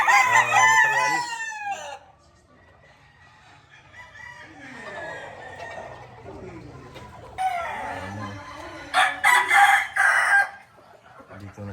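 Several young roosters (stags) of Duke Hulsey and Lemon bloodlines on a farm crow loudly in overlapping calls, one near and others farther off, with clucks and a loud burst of crowing near the end.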